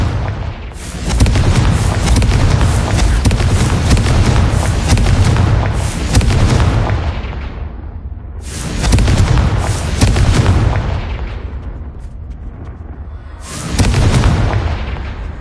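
Confringo fire spell blasts in a Hogwarts Legacy video game, three loud rumbling explosions, each a sharp crack rolling into a long booming tail, spaced several seconds apart with no talk.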